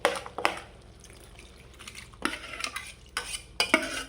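Salted mango pieces poured with their brine into a pan for Kerala mango pickle, followed by quiet spoon clinks and scraping against the metal pan in a few short bursts, close and fairly soft.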